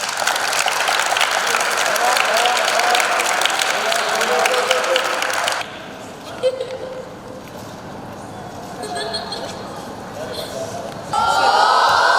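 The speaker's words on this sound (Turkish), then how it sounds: "Alkışlayın kendinizi." A crowd claps and cheers loudly for several seconds. Then the noise drops to quieter murmuring, and a fresh burst of applause starts near the end.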